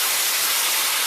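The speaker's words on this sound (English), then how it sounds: "watch it sizzle up" Tomato water poured into a very hot pot for creole pork chops, sizzling and hissing steadily, a continuous bright broadband fizz close up with no voices.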